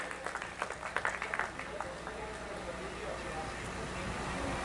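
Audience at a Hindi kavi sammelan (poetry gathering) in Mahishi claps in welcome, a burst of sharp claps early that thins into a steady murmur of crowd and voices.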